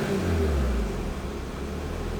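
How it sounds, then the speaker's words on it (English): A 1994 Toyota Supra with a single turbo revving up, a close steady engine roar with a low rumble that eases slightly, no talk. "I'll just rev it up a couple times"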